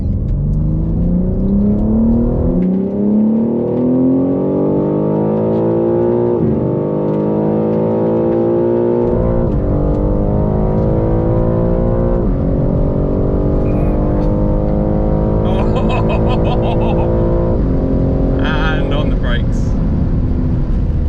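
A BMW M3 G80 in rear-wheel-drive form and an M3 xDrive launch side by side from a rolling 30 mph drag start, their engines revving hard and climbing through several gear changes, loud and sustained with occupants talking over the roar.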